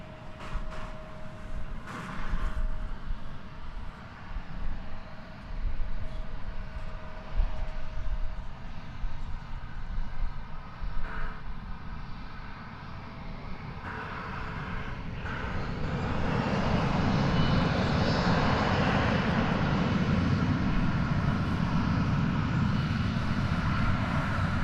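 An Envoy airliner takes off from runway 36 right at DFW Airport, its engine roar building from a distant hum to a loud, broad, sustained rush.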